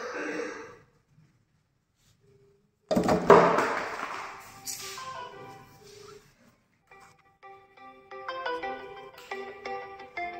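A mobile phone rings with an incoming call on a Hero Glamour Xtec motorcycle paired by Bluetooth; a melodic ringtone with repeating tonal notes plays in the second half, after a short burst of handling noise and brief speech.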